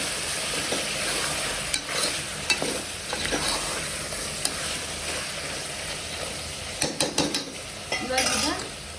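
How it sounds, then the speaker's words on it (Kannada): Mutton and chopped tomato fry in oil in a pan while being stirred, a steady soft sizzle broken by scraping strokes and sharper clinks of the spoon against the pot near the end. "ಇದನ್ನ ಚಲೋನಾಗಿ ಮಿಕ್ಸ್ ಮಾಡಿಬಿಡೋಣ."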